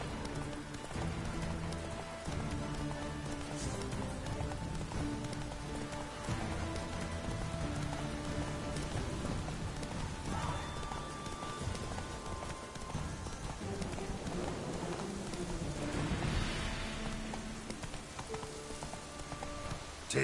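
Roach, Geralt's horse in The Witcher 3, gallops continuously under a dense bed of game music and ambience, hoofbeats fairly soft and blended into the mix, with no talking.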